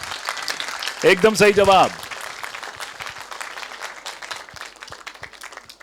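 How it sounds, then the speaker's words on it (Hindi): An audience at a Sanskrit quiz during the Mahakavi Magh festival 2023 applauds a correct answer with steady, crowded clapping. Someone speaks briefly over it partway through, and the applause continues after he stops. "सही है, तो तालियां बजनी चाहिए।"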